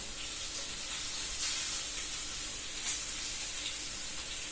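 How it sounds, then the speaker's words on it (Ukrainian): Fish frying in a pan, with a steady close sizzle and spattering hiss, a few louder pops rising out of it. "Риба, я тебе не люблю, що ти оце бризкаєш"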